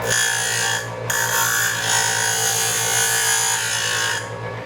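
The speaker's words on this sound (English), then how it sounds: "So we're going to grind this edge off first." An angle grinder grinds the edge off a lighted display base: a steady, loud, high-pitched whine runs nearly the whole time, dipping briefly near the start, then cuts off at the end.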